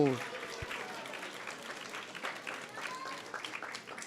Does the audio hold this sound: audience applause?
yes